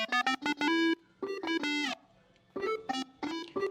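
Bursts of an Arturia MiniFreak synth with midrange-focused distortion, gritty and buzzy with a strong midrange bite, playing short stabbing notes separated by brief gaps.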